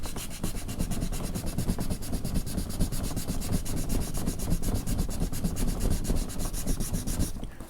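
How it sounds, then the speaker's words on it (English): Sandpaper wrapped on a block rubs back and forth over a painted plastic engine cover in fast, steady strokes, a close, continuous scratchy rasp with no talking. "I just got a block, wrap some sandpaper around it."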